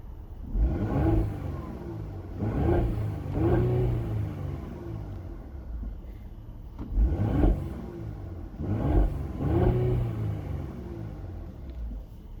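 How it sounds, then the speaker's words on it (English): A 2014 Mercedes-Benz GLE 43 AMG engine revs in several repeated bursts, each rising and falling smoothly over a steady idle rumble, heard close and clear with no talking. "Beautiful, smooth sounding engine."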